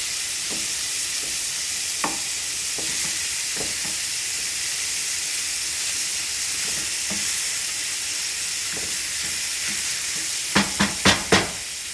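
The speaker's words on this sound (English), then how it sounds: "And it will be pretty loud when it's sizzling." Meat frying in a pan gives a steady, fairly loud sizzle with faint stirring scrapes scattered throughout and a few sharper clicks near the end.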